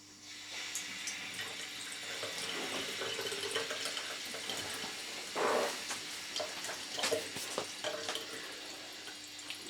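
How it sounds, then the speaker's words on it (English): Tap water runs steadily after being turned back on during a repair to revive old taps, a continuous close hiss and splash into a sink with a few brief clunks and splashes partway through. "So now I'm just going to turn the water back on,"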